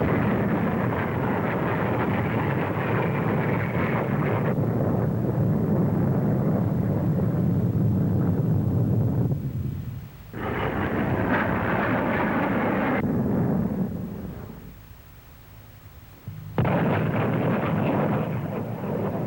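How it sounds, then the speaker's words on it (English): A loud, roaring jet engine rumble from Lightning fighters sweeping past at the Farnborough air show, broken by brief dips and surges as the noise swells and fades, with no talking. "Lightnings, all-weather fighters capable of twice the speed of sound"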